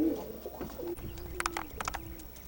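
Racing pigeon from a kite spangle family line cooing softly, a low drawn-out coo repeated a few times amid faint background chirps and clicks.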